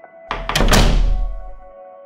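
A door slammed shut in a horror story: one loud, heavy thud with a deep rumbling decay that fades over about a second, heard alone against quiet, sustained tones.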